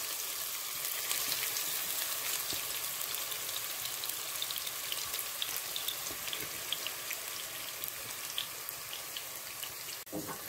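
Onions and dried red chilies fry in oil, a faint, even crackle of small pops and hiss that runs steadily without pause, no one speaking.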